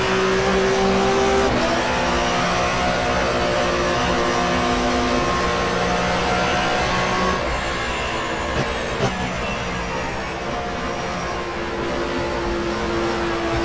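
Simulated touring race car engine in the GTR2 racing game at the Avus circuit, a loud sustained drone with gear changes and easing off into a corner, engine sound alone.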